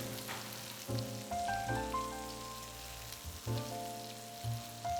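Beef pieces sizzle and fry in a pot for Beef Bourguignon, with steady close crackle and several heavier scraping thumps as a spoon stirs the meat around, with no voices.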